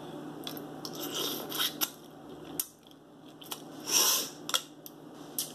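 Scissors snip through food at a mukbang meal of steak, corn and mussels, with several close, crisp cuts and rustling between them, quiet and without talk.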